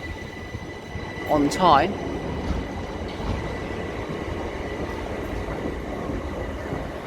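A Southern passenger train runs into a station on the south coast line to Southampton Central, with a rumbling, clattering pass, a loud squeal of wheels or brakes early on, and steady rolling noise afterward; a person briefly speaks.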